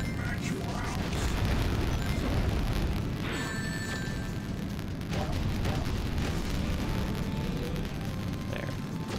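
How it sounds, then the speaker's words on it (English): Cannon fire in a video game blasting enemy ships out of the sky: a continuous, dense rumble of booms and bursts with crackling blasts throughout, loud and sustained. "Use our cannons and blow his ships out of the sky"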